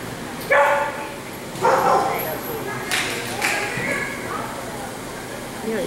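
A single dog barks in several sharp, close bursts spaced a second or so apart while people chat nearby.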